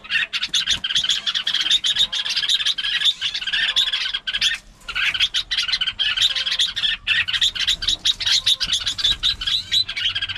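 Birds of prey call at their nest, the male and his chicks, in the Northwest Vietnam highlands, with loud, dense chirping and squawking that runs almost nonstop, close to the microphone.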